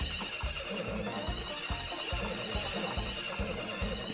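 Horses at a race in the Story of Seasons: Friends of Mineral Town video game, with repeated whinnies and neighs over a rhythmic clip-clop of hooves, steady and moderately loud throughout.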